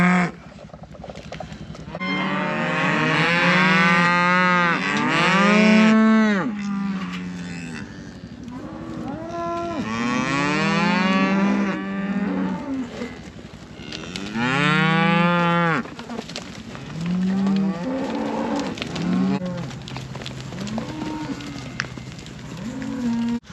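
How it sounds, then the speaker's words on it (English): Cattle moo loudly and repeatedly at close range while being moved onto fresh pasture, long drawn-out calls overlapping one another with short pauses in between. "we gotta move these cows because they won't forgive me if I don't do it"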